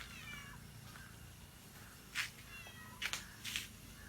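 A cat meows a few short times near the middle and end, over a low steady background hum with no one talking.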